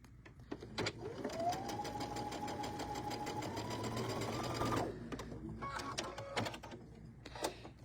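A sewing machine runs in a steady continuous whir, stitching fabric for a tabletop banner with diagonal seams, starting up after a few clicks and stopping near five seconds, followed by handling noises.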